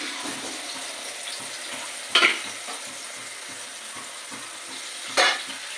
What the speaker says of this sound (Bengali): দিয়ে এবার আমি এটা কষবো।